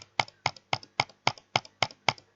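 Rapid double-clicks on a computer mouse while bridging in Minecraft, heard as nine evenly spaced pairs of sharp, close clicks in a steady rhythm with no other sound.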